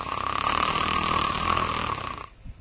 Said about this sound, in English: the frequency of the upper airway vibration increases along with the loudness of the snoring